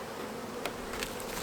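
Honey bees crowd a hive entrance above a queen excluder, their dense, close buzzing holding steady while single bees zip past now and then.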